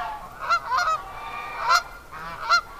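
Geese honk nearby in several loud, separate calls spread across a few seconds, with quiet outdoor background between them.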